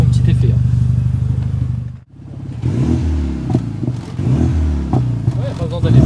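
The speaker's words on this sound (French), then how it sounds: "Allez Romain, fais-nous un petit démarrage." A Renault car fitted with a titanium exhaust line starts up at an aerodrome car event and revs hard, a loud close engine note that drops out briefly before roaring back and surging again, with voices talking over it.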